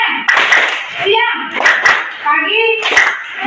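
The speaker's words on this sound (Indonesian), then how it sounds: "tepuk tangan untuk diri" Short bursts of hand clapping in a classroom lesson on Islamic prayer and remembrance, broken up by a teacher and children speaking between and over the claps.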